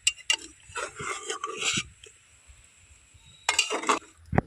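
A pressure cooker is opened and boiled eggplants are lifted out, giving short bursts of metal clinks and scraping with a quiet pause between them.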